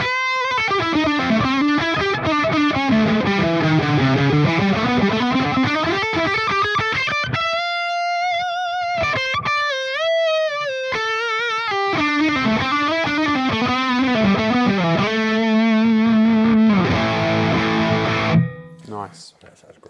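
Electric guitar through a Friedman IR-X tube preamp with effects bypassed, a loud distorted tone of sustained bends and held notes playing a melodic line for about eighteen seconds before stopping abruptly.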